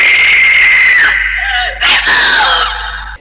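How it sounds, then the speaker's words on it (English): A woman's shrill, sustained scream from a 1964 Doctor Who serial, Marco Polo, set in a cave. It is loud and close, wavers in pitch and breaks briefly near the middle before carrying on for over three seconds. "Then Susan screams."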